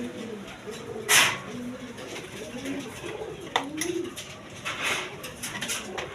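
Pigeons coo steadily nearby, soft throaty calls repeating over several seconds, with a louder brief noise early on and a faint voice in the background.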